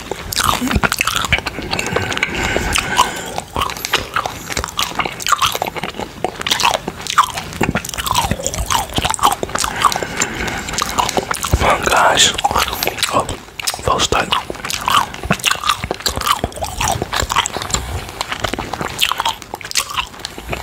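Hard jawbreaker candy crunched and chewed right at the microphone, with dense, continuous biting and crackling bursts and wet mouth sounds, with faint whispered talk mixed in.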